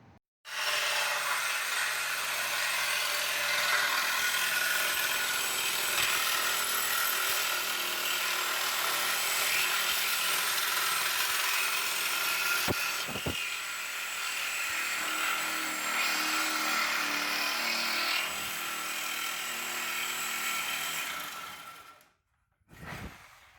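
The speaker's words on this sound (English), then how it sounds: "this is what happens when we cut up the back section." Saw cutting through the back section of a bike frame in a workshop, giving a loud, continuous grinding whine that holds for about twenty seconds before stopping, with a few knocks near the end.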